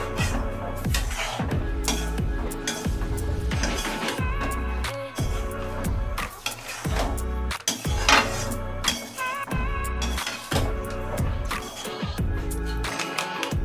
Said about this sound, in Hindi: कढ़ाई गरम होने के बाद आप सूजी को भून सकते हो।